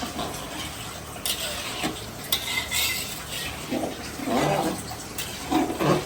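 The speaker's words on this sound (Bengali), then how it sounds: "এখন রোস্ট হচ্ছে এখন হচ্ছে রান্না হচ্ছে লাউ রান্না" Bottle gourd cooks in a pan while a utensil stirs and scrapes it, producing irregular clatters and scraping strokes over a soft sizzle, moderately close with no talking.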